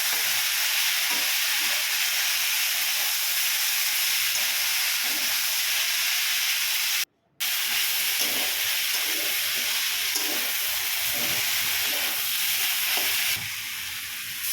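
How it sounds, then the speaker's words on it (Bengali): Cauliflower and potato pieces being sautéed with green chili paste and salt in a pan give off a steady, soft sizzle and hiss with faint stirring scrapes, continuous apart from a brief gap. "সবজিতে আমার লঙ্কাটা দিয়ে ভালো করে কষানো হয়ে গেছে"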